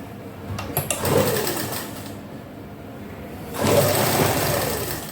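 A sewing machine runs in two bursts while stitching salwar fabric, a steady close mechanical whir that starts, pauses, and starts again.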